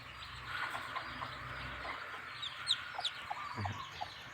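Chickens and a rooster cluck and call in the morning at a rural village farm, with several scattered, fairly faint clucks and squawks over a low background hum and no talking.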